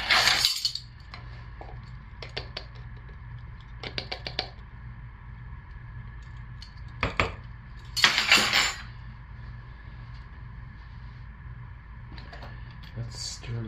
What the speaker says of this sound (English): Let's stir these in and scrape this down.